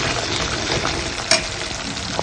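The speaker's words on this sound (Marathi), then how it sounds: "याच्यामध्ये आता आपण टोमॅटोची प्युरी घालणार आहोत." Tomato puree going into a sizzling masala for Maharashtrian kat vada curry, a dense, loud continuous frying hiss with faint stirring and one brief clink partway through.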